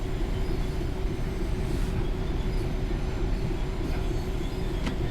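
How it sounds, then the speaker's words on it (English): A Class 323 electric train on the Birmingham Cross City line rumbles steadily and close, a continuous loud roar of wheels and carriage noise with no talk. "it's a 323 is still the train you're going to see most on this route"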